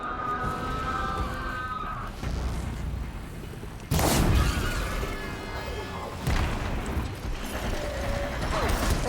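A robotic machine creature moves around in Horizon Zero Dawn, giving off clanking mechanical noises and metallic crashes with several louder bursts, over a busy game soundscape.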